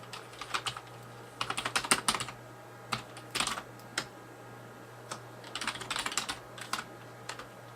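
Typing on a CMSTORM Devastator gaming keyboard: irregular bursts of crisp keystroke clicks, fairly close, with short pauses between flurries over a faint steady hum.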